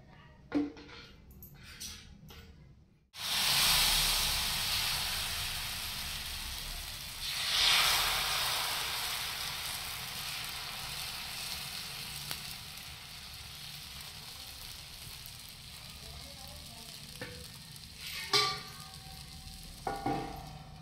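Thin rice flour ghavan batter is poured into an oiled kahili pan and covered, and it breaks into a loud sizzle that settles into a steady hiss, with occasional louder flare-ups and a few scraping touches.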